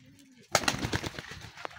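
Racing pigeons coo at the loft during a derby race, with a short burst of close, throaty cooing and fluttery rustle.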